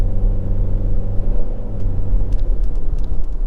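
A 2023 Toyota Corolla Cross engine drones loudly from inside the cabin at low speed under light acceleration, a steady deep rumble with a humming tone and no talk.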